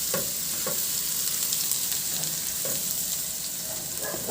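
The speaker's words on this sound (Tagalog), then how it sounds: "nagpainit na rin ako ng mantika at igisa ko yung bawang" Garlic sautés in hot oil in a wok-style pan, a steady loud sizzle with a few soft utensil scrapes as it is stirred, no voices.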